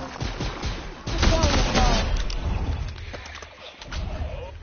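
Rapid bursts of video game gunfire crackle in a dense, close volley. The shots come in irregular clusters over a steady background.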